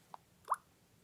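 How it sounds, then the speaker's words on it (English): A phone's notification sound plays once as a short, soft plopping chime, preceded by a faint tick, in an otherwise quiet setting. "now I check notification sound"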